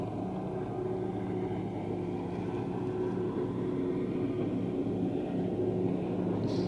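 Customs boat passing on the Westerschelde, a loud steady engine drone with a low throbbing hum, constant and fairly close throughout, no voices.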